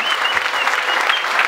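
A large church congregation breaks into loud, dense applause, a continuous close wash of clapping lasting a moment, with faint whistles or cries above it.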